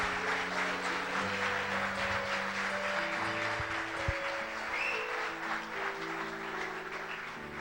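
A church congregation applauds to welcome Pastor Sebastião to the pulpit, a steady, dense wash of clapping that holds for several seconds with sustained low musical tones beneath it.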